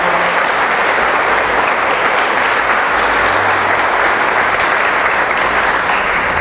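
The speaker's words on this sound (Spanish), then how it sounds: "Vamos a darle un fuerte aplauso a la palabra que hoy ha sido proclamada." A church congregation at Sunday Mass applauds steadily, a dense, loud wash of many hands clapping together throughout, with no talk over it.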